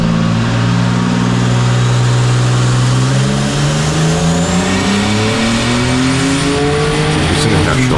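Turbocharged car engine pulling at full throttle on a dyno, a loud steady roar with harmonics climbing in pitch as revs rise through the run, close and continuous with no talk over it.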